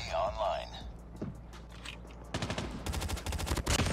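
A Pharo submachine gun firing in Call of Duty Mobile, a quick rapid burst of shots ending the clip after quieter game noise, with talk faintly in the background.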